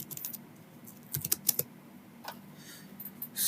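A computer keyboard is typed on in short clustered bursts of quick, light key clicks, fairly close and quiet, with pauses between groups.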